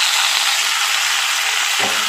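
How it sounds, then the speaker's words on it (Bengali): Tomato pieces and chopped onion frying in a pan give a steady, close, loud sizzle with no break, and a brief stirring scrape comes near the end. "টমেটো পেঁয়াজটাকে ভালো করে ভাজা ভাজা করে নিচ্ছি"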